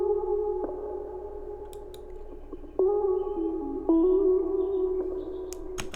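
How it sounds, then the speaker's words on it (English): A guitar sample from Splice plays in a music production session, sustained clean tones with soft plucked note changes, steady and alone without talk. "Now I have this guitar. I have it from Splice. Sounds like this."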